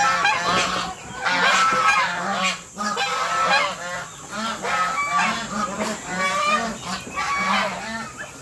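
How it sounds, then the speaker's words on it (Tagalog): A strange domestic fowl near a person gives repeated loud honking, goose-like calls in quick bursts, with more birds clamouring alongside. "Nakakaibang manok, oh."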